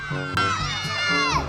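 Crowd at a motor show in Mabini, Pangasinan shouting and cheering, with high excited voices and whoops rising and falling in a short, loud burst nearby.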